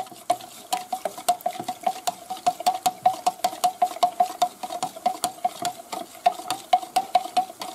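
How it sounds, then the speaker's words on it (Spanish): A spoon stirs cornflour into milk in a bowl, making steady rhythmic scraping clicks at about three strokes per second, close and moderately quiet, with no talking. "echar la harina de maíz y la mezclamos bien en la leche"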